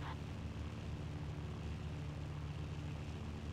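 An attacking plane in a World War II game gives a steady, low engine drone with a dense rumble, constant and moderately faint.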